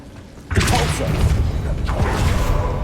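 A Depulso spell cast in Hogwarts Legacy, a sudden forceful whoosh and magical boom that swells in and sustains with a second surge near the end.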